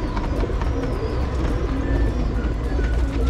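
Pigeons resting in a loft coo steadily throughout, their low rolling calls blending into a dense, continuous chorus close by, with a few faint higher chirps over the top.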